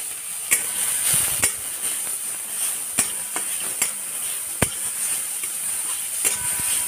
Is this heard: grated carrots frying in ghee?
yes